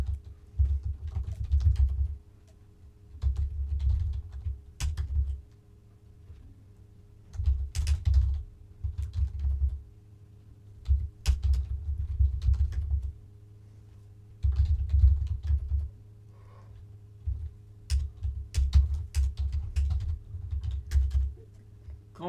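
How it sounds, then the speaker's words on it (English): Someone types on a computer keyboard in bursts of rapid key clicks separated by short pauses, close by and fairly quiet, with a steady low hum underneath and no speech. "I just suck at typing."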